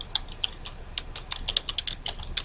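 Rapid, crisp keystrokes on a computer keyboard, a quick uneven patter of close clicks heard alone.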